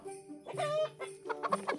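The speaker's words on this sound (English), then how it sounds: "A chicken, that's right." A chicken clucks in a short series of bright, nasal calls, close and clear, with faint tinkling beside it and no talking over it.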